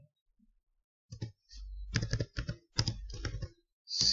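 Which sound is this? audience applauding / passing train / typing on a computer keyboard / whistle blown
typing on a computer keyboard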